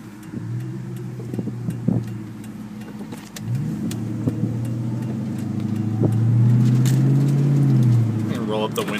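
A 2002 Ford Mustang GT heard from inside the car while driving, its engine and exhaust giving a low, throaty rumble that drops at a brief lift, then swells as it accelerates and revs up, loud and close.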